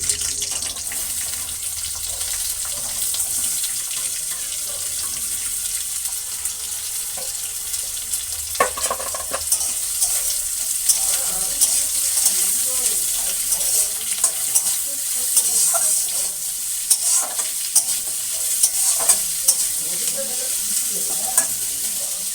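Oil sizzles and hisses steadily in a pan as chopped onions fry with bay leaves, with occasional stirring clatter, continuous and fairly loud, no voices.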